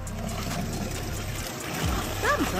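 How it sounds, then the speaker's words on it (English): Water-absorbing beads pour in a steady watery rush into a cylinder, a continuous trickling, splashing flow that swells slightly near the end, with faint chirpy squeaks over it. "He pours tons of water absorbing beads in the cylinder."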